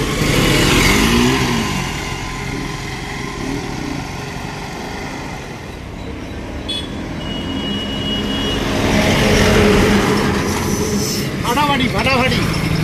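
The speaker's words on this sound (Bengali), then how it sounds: "তো বন্ধুরা ফাইনালি RS 200 এ বসে গেছি। তো চলো গাড়িটা চালিয়ে দেখি কেমন লাগে।" A Bajaj Pulsar RS 200 motorcycle is ridden on the road, its engine droning steadily with rises in revs and wind rush throughout, joined by passing traffic noise.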